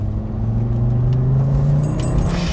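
A Fiat Coupe 20-valve turbo engine accelerating, its steady low rumble and rising drone heard from inside the car, loud and continuous with no talking.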